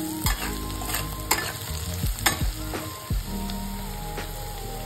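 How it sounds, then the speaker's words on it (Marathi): Onions and cumin frying in a pan with a steady close sizzle, punctuated by repeated spoon scrapes and stirring clinks against the metal, with no talking. "याच्यामध्ये कांद्याला पूर्णपणे फ्राय करून घ्यायचं आहे।"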